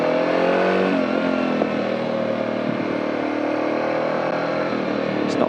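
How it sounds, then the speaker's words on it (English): A car engine held at high, steady revs while the vehicle creeps along at about 40 km/h, a loud continuous droning roar with little change in pitch across the stretch, on a long road trip from Auckland to Perth. "I'm just revving the nuts off of it"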